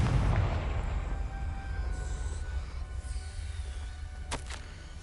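Confringo fire spell exploding in Hogwarts Legacy, a loud low boom at the start that rolls into a long rumbling decay, with a couple of faint crackles near the end.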